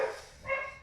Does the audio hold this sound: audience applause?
no